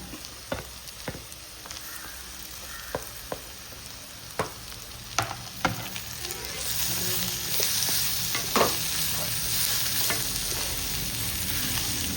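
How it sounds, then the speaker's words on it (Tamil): Onions sautéing in a pan as tomatoes go in, with a close, steady frying sizzle and sharp clicks of a spoon stirring against the pan; the hiss grows denser and louder partway through, and no one speaks. "வெங்காயம் வதக்குது தக்காளியை போட்டுக்கலாம்"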